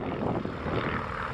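A loud, continuous rumbling drone of a propeller airplane engine departing at the SUN 'n FUN 2018 fly-in, steady and close, with no talking.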